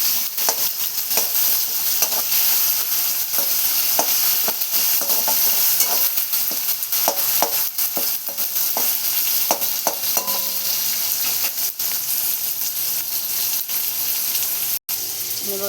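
Cabbage tipped into a frying pan with softened tomato and stirred, steady sizzle with scattered clicks and scrapes of a spoon against the pan, continuous and close throughout, one sharp knock near the end, no speech.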